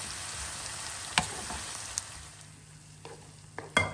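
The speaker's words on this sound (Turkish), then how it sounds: "Soğanlarımızı başka soğanlar kadar kızartmadık." Onions sizzle in hot oil in a pan, prepared for an Azerbaijani bean salad; a quiet, steady frying hiss runs throughout, broken by a few sharp clicks of stirring.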